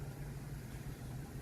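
A VW Polo with a swapped-in engine idles smoothly, a steady low hum with an even, unbroken tone over a short stretch, close by and without any other sounds.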